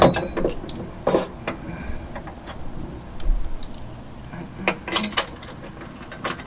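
A ratchet drives a bolt while running boards are installed on a Ram 1500 pickup, giving clusters of crisp, close clicking and ticking in irregular bursts over quiet background noise.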